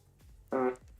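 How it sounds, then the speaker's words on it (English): A smart speaker plays a short fart noise: one brief, buzzing blast of under half a second, moderately loud against a quiet room. "Alexa, make fart noises."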